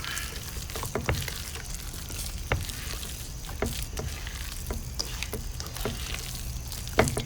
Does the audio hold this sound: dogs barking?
no